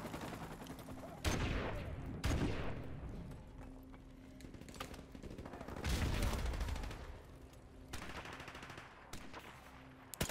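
Bursts of automatic gunfire and explosions in Call of Duty 4 Modern Warfare Remastered during a team deathmatch on a ship, several loud volleys with crackling decay between them.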